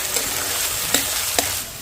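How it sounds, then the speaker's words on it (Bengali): Potatoes with turmeric fry in oil for ghugni while being stirred, a loud continuous sizzle broken by a couple of sharp scraping clicks from the spatula. "আলুতে একটু হলুদ দিয়ে দিচ্ছি আলু বেশি ভাজার দরকার নেই কিছুক্ষণ নেড়ে নিয়ে আমি তুলে নেব"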